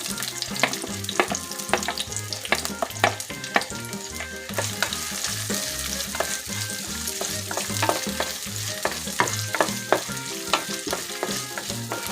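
Small shallots sizzle and fry in hot oil for a Kerala chicken curry, a dense steady crackle broken by repeated rhythmic stirring clatters of a spoon against the pan, close and loud.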